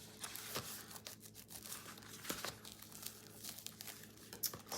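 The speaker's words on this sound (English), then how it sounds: "I use the Teflon bone folder once again to crease that" A Teflon bone folder rubs and creases folded paper, giving close, quiet crinkling and scraping strokes in an irregular rhythm.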